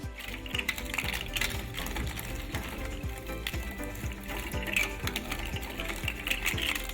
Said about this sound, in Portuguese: Temos esta nossa máquina, serve de trituração dos plásticos.